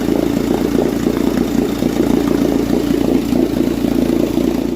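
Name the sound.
1958 Johnson 18 horsepower Seahorse outboard motor running in barrel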